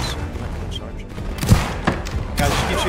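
Musket volleys in a Roblox Napoleonic wars battle between Italy and Naples, with scattered cracks and thuds over a continuous din while a player talks over them.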